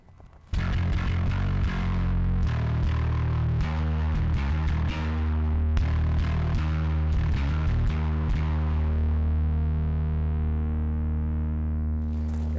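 A bass guitar plays through a Lusithand Ground and Pound MKII bass distortion pedal set near maximum: loud, thick, buzzing distorted notes and chords that ring and sustain, then decay slowly at the end.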